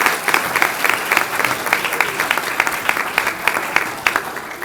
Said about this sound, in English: Round of applause for winter one.